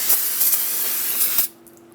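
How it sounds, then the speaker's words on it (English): A continuous spray of brake parts cleaner hisses loudly for about a second and a half, then cuts off abruptly, leaving a quiet hum. "you can spray it down with some brake parts cleaner."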